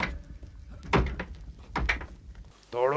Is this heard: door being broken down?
yes